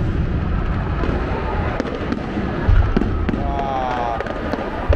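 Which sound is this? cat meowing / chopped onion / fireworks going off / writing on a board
fireworks going off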